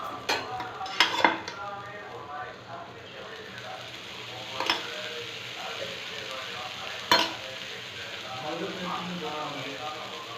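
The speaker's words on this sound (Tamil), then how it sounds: "இது ஆட்டிட்டு வந்து உடனே உப்பு போட்டு ஊற்றுறேன் இந்த தோசை." Freshly ground, salted millet dosa batter is poured onto a hot pan and sizzles steadily while someone talks over it, with a few sharp clinks of a ladle or utensil against metal.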